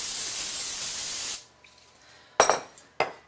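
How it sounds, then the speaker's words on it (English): Steady hissing spray of olive oil misted into a big bowl for a raised donut dough, lasting over a second, then a few quick clinks of the bowl and utensils. "I'm going to spray it with olive oil"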